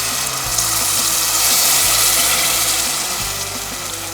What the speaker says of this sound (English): I'll let that fry for like 5 to 7 minutes until things start to smell toasty